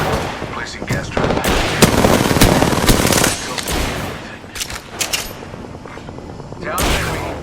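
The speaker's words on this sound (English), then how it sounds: "A second squad is firing at me." Enemy squad gunfire in the video game Apex Legends, loud rapid automatic bursts and shots in close succession, with a game voice calling out over the firing.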